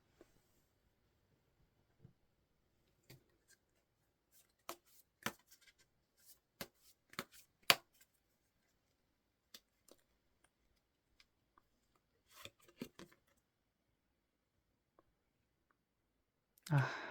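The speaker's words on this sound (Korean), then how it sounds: "그럼 다음으로 조언의 카드를 한 장 뽑아보도록 할게요" Tarot cards shuffled and drawn on a table: scattered soft clicks and taps, sometimes in quick clusters, faint and sparse against near silence.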